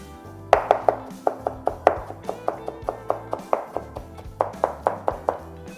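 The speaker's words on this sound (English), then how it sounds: "I'm just gonna chop up these poblano peppers" A knife chops poblano peppers into quarter-inch squares on a cutting board, a steady series of close, crisp knocks in quick runs, pausing briefly midway before resuming.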